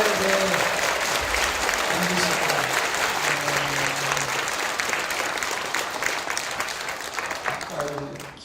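A church congregation at an Easter union service applauds loudly and cheers for pastors, sustained clapping filling the room while voices shout and speak over it.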